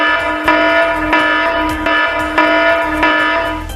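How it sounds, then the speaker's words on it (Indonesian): A building fire and disaster warning alarm bell rings loud and close, a sustained metallic tone with repeated strikes roughly every half second. "Jika terjadi kebakaran atau bencana alam, maka tanda peringatan akan berbunyi."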